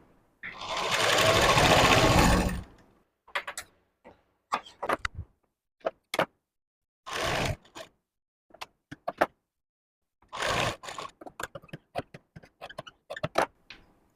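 Sewing machine stitching the corners of a blouse neck strip, a long continuous whir of stitching followed by a series of short, sharp bursts of sewing with pauses between them, close and clear.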